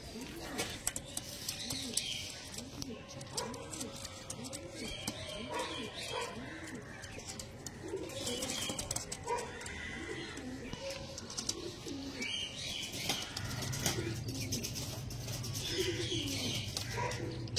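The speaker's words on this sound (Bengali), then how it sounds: "চলো পায়রাগুলো ছেড়ে দেখি।" Domestic pigeons coo repeatedly in rhythmic, rolling calls, close and moderately loud, with occasional wing flaps and chirps over a busy background.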